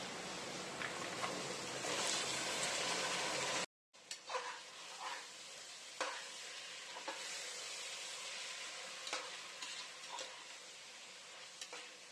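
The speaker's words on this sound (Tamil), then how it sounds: "கட் பண்ண வெஜிடபிள்ஸை நம்ம இதில் சேர்த்துக்கலாம்." Cut vegetables for veg pulao hit a hot pan and sizzle loudly, then after a brief break the frying settles into a softer steady crackle with occasional stirring clinks.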